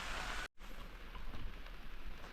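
Steady monsoon rain keeps falling as a downpour eases in the Konkan countryside, an even, dense patter broken by one brief dropout near the start, with no voices.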